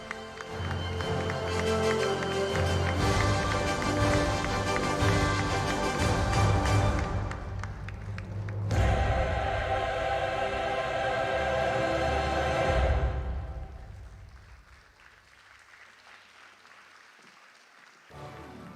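Sustained applause from a film festival closing-ceremony audience honoring award winners, a dense steady clapping that swells midway and then fades away.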